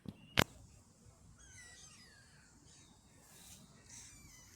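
Gulls call in a feeding frenzy at a park, harsh cawing cries, one loud and close at the start, then fainter overlapping calls in the distance.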